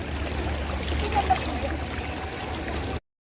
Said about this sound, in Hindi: ये पानी केव के अंदर से ही आ रहा है।